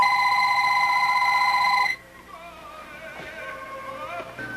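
A telephone bell rings loudly with a steady, sustained tone for about two seconds, then stops abruptly, leaving quieter room noise.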